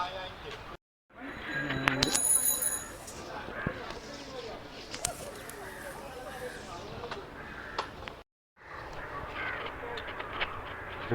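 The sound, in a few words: crows cawing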